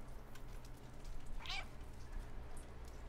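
Cat meowing in the video game Stray, one short faint meow over a steady low hum of game ambience.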